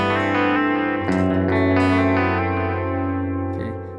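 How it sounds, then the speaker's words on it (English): Clean electric guitar chord played through a Kemper Profiler with heavy delay and reverb, ringing loud and sustained with a couple of re-struck notes and a lush echoing tail that slowly fades. "I have a nice clean sound with a lot of delay and reverb on"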